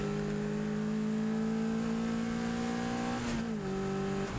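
A race car on the Spa circuit, held on a steady high engine note while driving, then a brief dip as it brakes and shifts down, loud and continuous from onboard, with no talk.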